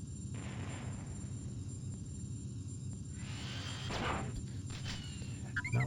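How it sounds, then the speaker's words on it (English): A Star Destroyer blows up in the DOS game Star Wars: X-Wing, a low rumbling explosion over a constant engine drone, with bursts swelling midway and again at the end. "Star Destroyer goes kaboom"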